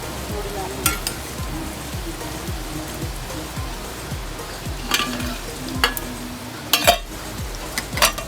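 Onion bhaji frying in hot oil gives a continuous bubbling sizzle, with periodic clinks and scrapes of a utensil against the pan.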